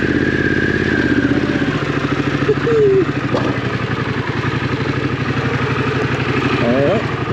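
A Harley-Davidson Pan America motorcycle climbing a rocky trail, its engine throbbing loud and close in a steady low pulse, with clattering over rocks and a rider's voice speaking over the engine.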